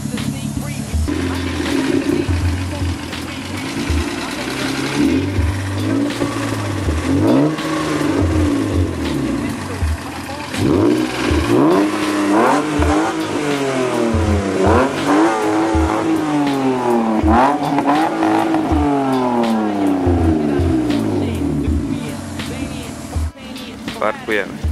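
A BMW E30 with a straight-through exhaust revs and drives up close, its engine note climbing and falling in repeated sweeps, with a few throaty bursts and a brief pause near the end.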